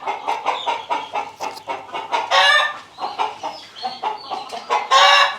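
Country chickens cluck in a busy, rhythmic chorus inside a chicken shed, with louder squawks and a crow breaking through, close by and with no talking.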